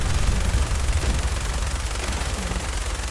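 A minigun spinning and firing in Fallout 4, a loud, dense, continuous burst of rapid gunfire lasting the whole stretch without a break.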